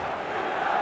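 Stadium crowd in eFootball 2023, a steady roar of many voices filling a large arena, brief and continuous.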